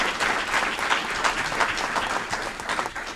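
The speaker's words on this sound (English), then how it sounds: "Let's give all of them a round of applause." A continuous round of applause from a crowd at a city council committee meeting. Dense, even clapping holds at a steady level for the whole stretch.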